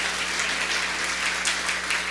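A church congregation at a Spanish-language Mass claps in a strong, continuous burst of applause, dense and even from start to finish under a faint low hum.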